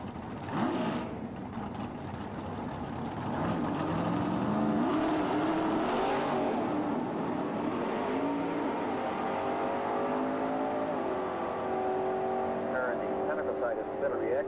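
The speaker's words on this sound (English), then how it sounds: "Hampton out of Chicago, Illinois in the uh, 71 Camaro, the Winston side." A 1971 Camaro drag racing car roars past at a drag strip. The engine note climbs and sweeps steadily over several seconds, while a track announcer talks throughout.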